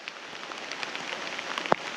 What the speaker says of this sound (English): It's midnight, it's raining,